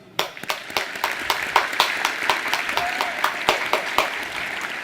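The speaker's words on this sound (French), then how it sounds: "cela mérite une bonne main d'applaudissements" Scattered applause at a French-language marketing awards gathering, individual claps standing out crisply against a thinner wash of hands, moderately loud and continuing throughout.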